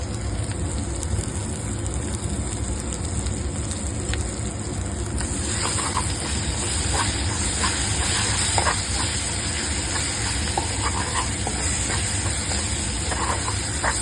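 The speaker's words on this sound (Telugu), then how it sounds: "అల్లం వెల్లుల్లి పేస్ట్ పచ్చివాసన పోయేంత వరకు మంచిగా ఫ్రై చేసుకోవాలి" Ginger garlic paste with turmeric sizzling in a pan of fried onions for chicken curry, a steady loud hiss throughout with occasional small pops and crackles.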